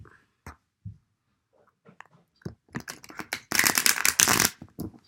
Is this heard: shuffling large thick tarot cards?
yes